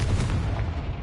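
A Confringo blasting spell explodes in a Harry Potter video game, a loud, dense, close boom that fills the whole brief moment with rumbling force.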